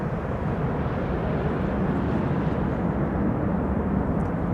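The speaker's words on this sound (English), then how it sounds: "Reversers being applied there." Thrust reversers roar on a landing airliner at Amsterdam Schiphol runway 06, a dense, steady low rumble held at an even level throughout, distant and unbroken by talk.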